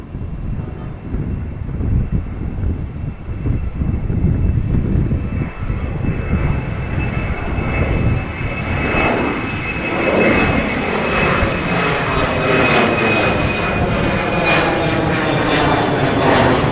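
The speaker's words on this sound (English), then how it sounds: "I am seeing a nice bluebird that apparently just landed and is on its way back to the parking." A blue-liveried airliner taxis back toward parking at Amsterdam Schiphol after landing, its jet engines droning steadily and fairly loud throughout, with a thin whine and some wind buffeting on the microphone.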